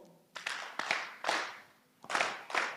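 A conference audience at a national climate outlook forum claps in several short, uneven bursts with brief pauses between them, the scattered claps fairly close and moderately loud.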